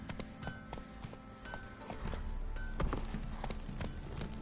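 Roach, a horse in a video game, trots with rhythmic hoof clip-clops over a busy game soundscape with faint music, steady and moderately close.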